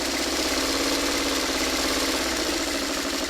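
A sewing machine runs steadily while stitching a quarter-inch seam along both sides of fabric, a continuous fast whirring, mechanical hum at close range with no pauses or talking.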